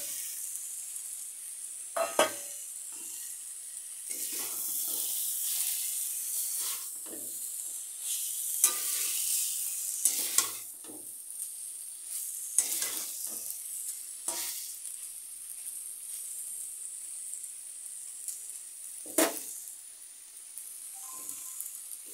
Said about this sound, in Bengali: এখন আমি মাছগুলো ঢেলে দেবো।